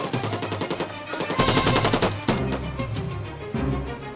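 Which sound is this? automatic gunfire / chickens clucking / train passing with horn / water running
automatic gunfire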